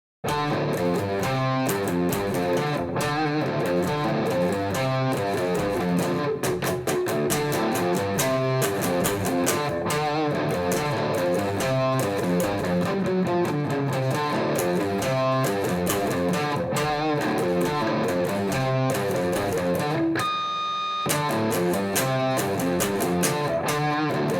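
Distorted electric guitar plays the main riff of a song continuously, loud and dense with driving chords, a brief ringing harmonic near the end, then the riff resumes; no talking.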